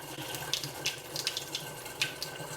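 Water runs through a newly installed Waterdrop X12 reverse osmosis filter system under a kitchen sink while it flushes, a steady close hiss with a few brief clinks and splashes on top, and no talking.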